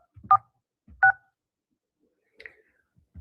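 A telephone number is dialed, producing three short, distinct keypad tones spaced about a second apart against near silence, with faint handling noise.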